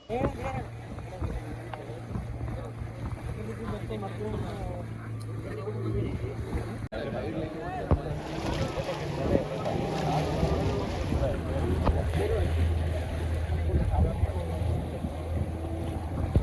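Engine drone and water slapping against a hull as a boat moves over open sea off Goa, about five kilometres out, with wind buffeting and people talking over it.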